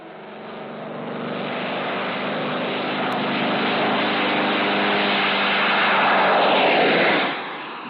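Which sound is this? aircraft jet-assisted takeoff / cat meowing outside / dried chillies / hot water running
aircraft jet-assisted takeoff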